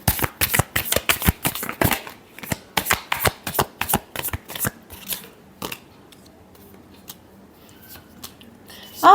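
Tarot cards are shuffled in a rapid run of crisp, riffling snaps for about five seconds, close and clear. A few scattered card taps follow, then near silence and a short sound at the very end.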